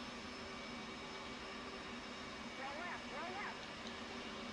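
The right jet engine of an F/A-18 Hornet, spooled up and running at a steady idle, a constant broadband roar with a faint whine. Faint voices come through briefly midway.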